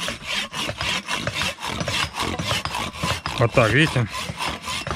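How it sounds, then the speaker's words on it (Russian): A knife carves notches into a wooden hammer handle in quick, rhythmic rasping strokes, close and loud, while someone talks briefly near the end. "Я всегда беру ножолочку и делаю зазубрины."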